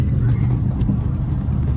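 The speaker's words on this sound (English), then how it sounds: "We're gonna downshift to third." Engine of a Honda Civic (ES1) with cut springs, heard from inside the cabin while downshifting into a corner: a steady, loud low-frequency drone with no clear rev spikes or pauses.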